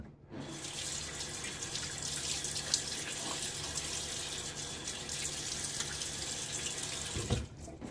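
Water runs steadily from a sink tap while someone wets their face, a continuous splashing hiss lasting several seconds with a few louder splashes and a brief clunk near the end.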